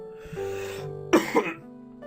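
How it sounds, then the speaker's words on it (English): A person coughing during a game session, two sharp close coughs with throat-clearing over a background of game music tones. "I'm going to have to apologise for the intermittent coughing."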